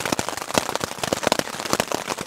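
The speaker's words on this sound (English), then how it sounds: "Yep, that is not rain. Hail." Hail falling on an evening fishing spot on a wet day during a solo backpacking trip, a dense, steady patter of sharp crackling ticks, close and fairly loud throughout with no talk.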